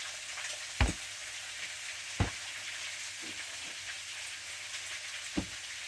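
Steady sizzling of onions frying in a pan, a constant hiss with a few sharp pops and clicks standing out.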